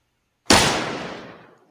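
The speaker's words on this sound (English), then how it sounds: "Gunshots." A single loud gunshot cracks sharply and decays over about a second, alone in otherwise silent surroundings.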